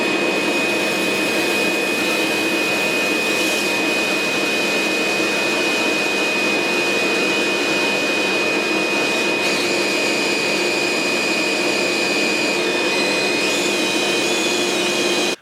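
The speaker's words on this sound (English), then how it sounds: "I'm actually going to have my lovely wife hold the vacuum for me while I'm drilling in through the door" A vacuum cleaner is held to a door to collect sawdust while a hole is drilled for a doorknob. It gives a loud, steady whine with a high tonal note that runs continuously from start to finish.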